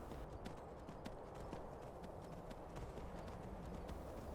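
Horse hooves clopping in a steady rhythmic gallop while riding in Skyrim, quiet and continuous, with no talk over them.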